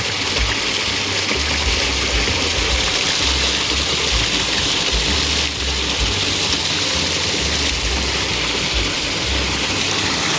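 Loud, steady rush of gushing water from a 1HP Pedrollo solar-powered water pump, with a low mechanical hum underneath, continuous and close throughout.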